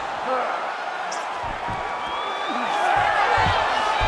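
Crowd noise in a UFC 5 mixed martial arts video game, a broad arena murmur that rises into a swell of cheering near the end, with scattered thuds from the fight.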